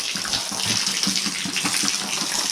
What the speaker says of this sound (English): Just pour it in the stall.